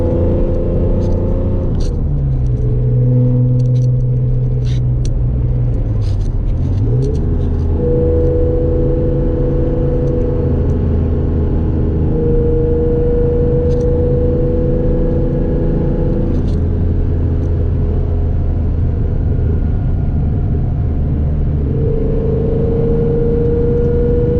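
A 1970 Jaguar E-Type sports car engine hums steadily at cruising speed, with low rumbling tones shifting gently as it drives along, close and continuous throughout.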